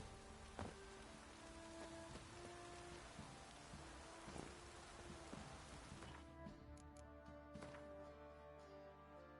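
Steady rain falls in a video game, a soft continuous patter with scattered heavier drops and faint tonal background sounds, heard alone without voices.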